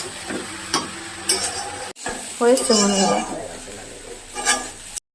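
Onions fry in a pan with a light sizzle while a utensil scrapes and stirs in bursts, clinks of metal throughout, and someone speaks briefly over the cooking.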